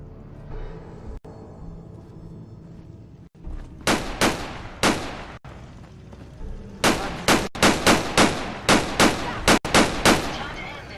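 Gunfire in Fallout 4 during a quest, loud bursts of rapid shots in quick clusters, with single shots early and a denser volley later, near and punchy over low game ambience.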